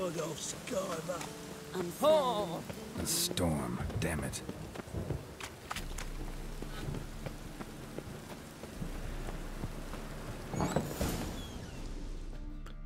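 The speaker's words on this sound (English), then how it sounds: "A storm, damn it." Steady rain and rumbling thunder fill a storm in The Witcher 3, with a swelling roll of thunder late on, heard under frequent talking and game sounds.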